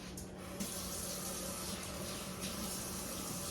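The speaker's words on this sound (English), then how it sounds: "we want to start off by washing our hands" Warm tap water runs into a sink while hands are washed before cooking in a home kitchen. A soft, steady hiss of flowing water continues throughout at a low level, with no voices.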